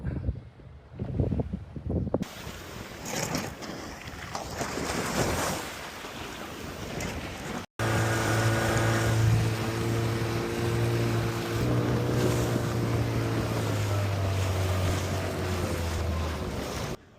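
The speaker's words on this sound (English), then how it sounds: "First boat is arriving." Steady rumble of a boat engine over wind and rushing water, with a low droning hum that holds for several seconds; no voices.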